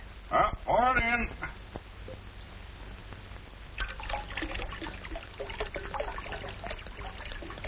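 Grape juice poured into a bowl, a light trickle and dribble of liquid running for several seconds after a brief burst of a voice, with quieter intermittent talk over the pouring.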